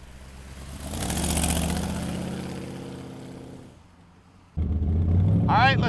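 Orange 1932 Ford Deuce Coupe street rod with side pipes, its engine rumbling and swelling, easing off, then returning louder and closer.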